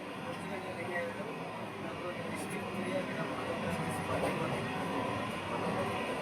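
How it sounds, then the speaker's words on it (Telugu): A passenger train runs along the line on a journey, giving a steady broadband rumble and rattle of carriages heard from inside the coach throughout. "మనం రైలు ప్రయాణంలో ఉన్నాము"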